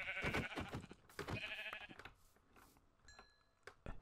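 Sheep bleat loudly and close by in the Minecraft video game, a run of several wavering cries in the first two seconds, followed by quieter scattered game tones.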